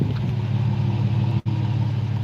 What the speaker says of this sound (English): that's the exhaust is on the side there, and it kind of has like a cammed out sound to it to me.